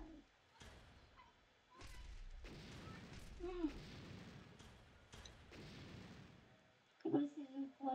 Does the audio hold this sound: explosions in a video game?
yes